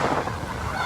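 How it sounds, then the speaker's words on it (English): Strong wind blows by the water on a sunny day, a loud, blustery roar buffeting the microphone that stays continuous through the whole short moment. "it's so windy you can see it"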